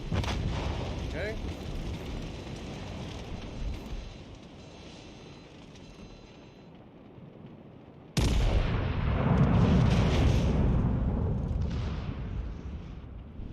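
Naval gun shells firing in World of Warships Legends, heavy booming salvos rumbling loudly with a sharp new blast partway through, while someone talks over the battle noise.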